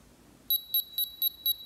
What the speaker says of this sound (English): my device is beeping